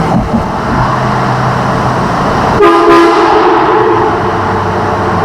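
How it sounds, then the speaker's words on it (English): Air horn on a truck blasts once, loud and close, a sustained honk cutting over steady road and engine rumble before fading back to the drive noise. "the best upgrade is the air horn"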